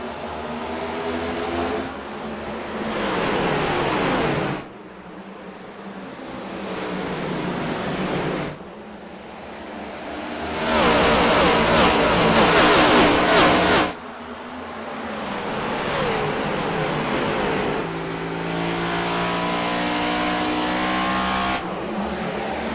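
Race cars in the iRacing League Cup Series at Iowa Speedway roar past in repeated loud waves, engines droning and shifting pitch as the oval-track field circles, with no talk over the engines.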